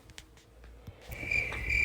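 A person's voice imitates a cricket, building to a sustained shrill, high chirping trill that grows louder toward the end, with no speech.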